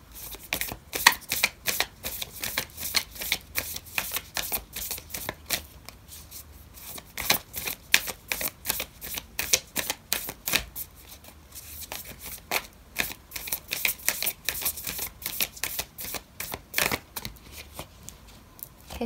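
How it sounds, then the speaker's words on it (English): Close, steady riffling of an oracle card deck during a tarot reading, with rapid crisp card flicks repeating in dense bursts for many seconds and no talking. "I'm going to pull out an oracle card for you"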